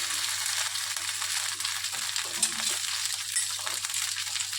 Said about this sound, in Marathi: तेल गरम झालं की हे जे तोंडली आहेत हे तोंडली ह्यामध्ये टाकून घ्यायचे